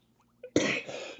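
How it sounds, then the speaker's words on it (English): A man coughs once, sharply and loudly up close, the harsh burst trailing into a rough, breathy rattle, after a couple of faint soft sounds before it. "fighting this cough"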